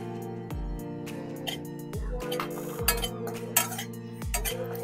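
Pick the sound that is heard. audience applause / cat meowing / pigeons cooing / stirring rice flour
stirring rice flour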